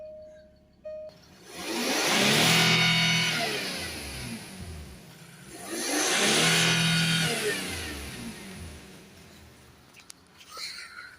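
A Jaguar XF 3.0 TDV6 diesel engine with a manifold pressure fault revs up twice, each rise swelling loud and then falling back, with a short pause between the two surges.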